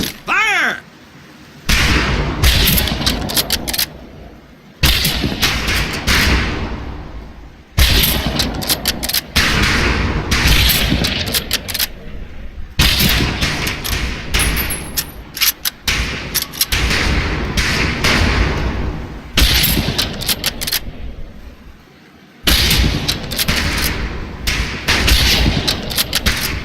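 Rifle fire at targets on a boot camp shooting range in the video game Medal of Honor Pacific Assault: loud, sustained bursts of gunshots in long stretches with brief quiet gaps, close and dense, mixed with voices.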